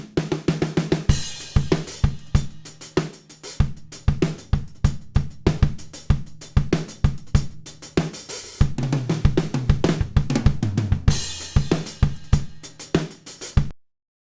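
A dry, unprocessed drum kit miked with a Circle Audio Evo 251 plays a steady groove of close, punchy hits with busier fills in places, and stops abruptly at the end.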